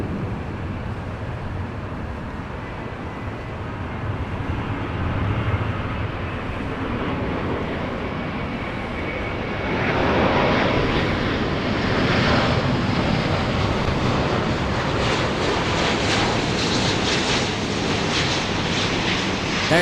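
Airplane departing LAX, its engine roar rising out of a windy outdoor wash and swelling louder and closer toward the end, a steady rumble with no talking.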